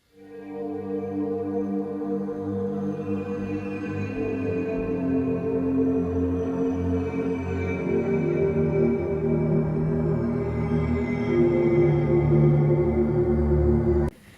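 A dense, sustained Arturia Pigments synth pad drone with a layered, textured tone, swelling gently and holding steady before cutting off abruptly.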